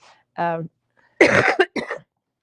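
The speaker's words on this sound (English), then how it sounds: "I'm going to either sneeze or cough." A short vocal sound followed by a couple of harsh, close coughs in quick succession, loud against silence.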